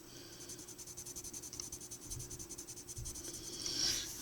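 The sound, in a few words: colored pencil shading on paper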